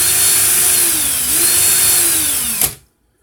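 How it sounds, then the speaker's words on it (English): A power drill twisting wire whirs steadily at close range, its pitch dipping and rising under load as tension builds, then cuts off abruptly near the end. "go faster with the drill."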